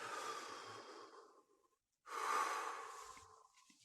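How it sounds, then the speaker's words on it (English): A person draws one long, slow breath in, pauses in near silence, then lets it out in a long, audible exhale, close and quiet. "Take a deep breath."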